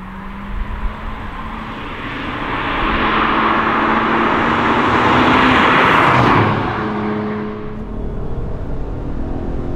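BMW 1M engine revving hard under acceleration after a downshift, a loud, steady rising roar that swells for several seconds, peaks, then eases off, heard alone from inside the car.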